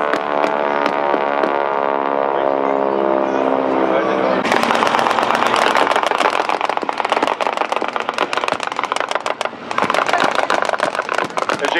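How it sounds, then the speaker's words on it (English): .50 caliber machine gun bursts ring out in rapid strings as aircraft strafe a beach landing, loud and continuous with dense overlapping reports over a steady droning background. "Those would be 50 caliber machine gun bursts."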